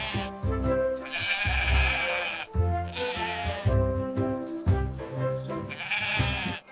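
Sheep bleating repeatedly, three loud wavering bleats in a row with short gaps between them, close and clear with no other sounds.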